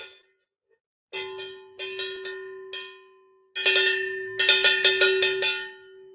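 A bell rings in a few separate clusters of quick strikes, bright and ringing with a steady sustained tone, loud and close with no talking.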